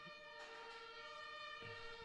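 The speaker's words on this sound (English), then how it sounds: "You hear those sirens?" Faint emergency vehicle sirens hold a steady, distant tone outside, barely rising above the quiet indoor background.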